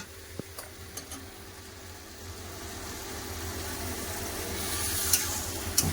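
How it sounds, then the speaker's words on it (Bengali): Water poured into a pan of frying masala, vegetables and fried fish head for a Bengali chorchori gives a continuous sizzle that swells toward the end, with a few sharp clinks of utensils against the pan. "এবার কম করে জল দিয়ে দেবো"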